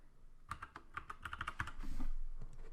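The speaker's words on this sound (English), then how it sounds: "Here, you'll be able to type your message out in text" Keys clack on a computer keyboard as a message is typed, a quick close run of light taps that thins out toward the end, with no voices.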